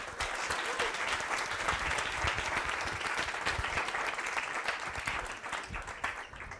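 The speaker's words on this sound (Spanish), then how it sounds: "un aplauso para Luis." Audience applause at the close of a Spanish-language talk on AI and databases, a dense, steady roar of many hands clapping that holds for several seconds before easing slightly at the end.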